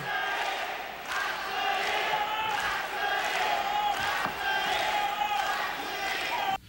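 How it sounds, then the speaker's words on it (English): At a Pride Fighting Championships event, the arena crowd chants Matsui's name in a loud, steady rhythmic cadence, repeating roughly once a second, with a few thuds mixed in. "Matsui chants break out in the crowd."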